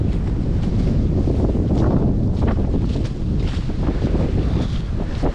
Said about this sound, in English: It is so windy and cold out here.